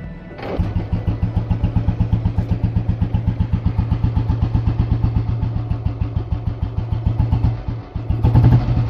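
An old-model cast-iron Royal Enfield Bullet engine, fitted with a high-flow oil pump, fires up after a brief pause and settles into a loud, steady, close thumping idle that runs to the end.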